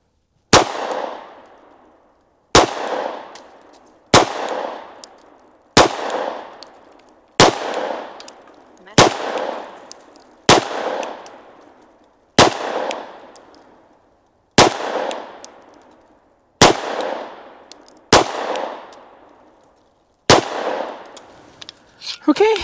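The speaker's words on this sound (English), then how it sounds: "let's see how we do with just the Sig, and we'll start off with just an accuracy test with just a few rounds" Sharp, loud pistol shots from a Sig P365 fired one at a time on an outdoor range during an accuracy test, about a dozen evenly spaced reports, each followed by a brief ringing echo.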